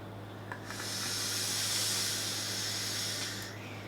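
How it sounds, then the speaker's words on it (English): A long hissing draw on a vape, a 25 mm Cigreen Gear RDA on a Hexo mod, rises and holds for about three seconds, close and airy over a faint steady hum, with no talking. "I'm gonna just take a quick vape just to show you how this bad boy vapes like."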